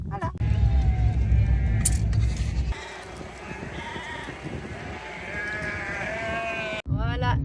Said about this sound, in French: la suite des animaux continue. Après les cochons, les moutons.